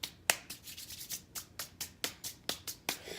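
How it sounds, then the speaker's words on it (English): Dry bare hands rubbing briskly against each other, a close, steady run of about a dozen raspy swishes in quick rhythm with no talking. "That is the sound of hands that don't wear gloves."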